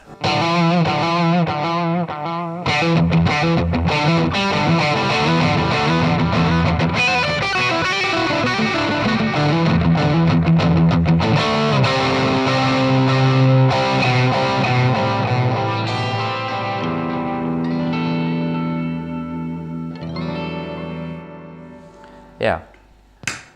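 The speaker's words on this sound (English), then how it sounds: "So this is the V5 analog delay in front of the overdriven amp." Overdriven electric guitar played through an XVive V5 analog delay pedal into an overdriven amp, with echoing repeats trailing each phrase; loud and continuous, winding down near the end.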